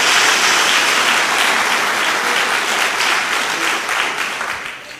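A church congregation claps in sustained, dense applause during worship, loud and steady before gradually thinning toward the end.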